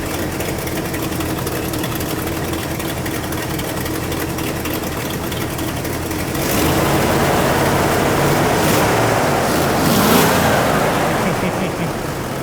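A 1986 Buick Grand National's engine runs steadily at a low, even idle, then swells louder with a few throttle blips partway through, heard up close with faint background noise.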